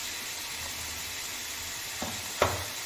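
Spices including garam masala, Kashmiri red chili powder and kasuri methi frying in a pan, a soft steady sizzle with two short spoon scrapes near the end.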